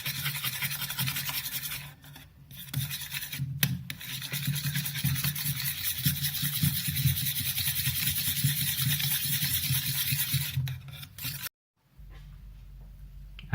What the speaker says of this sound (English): Whisk it properly.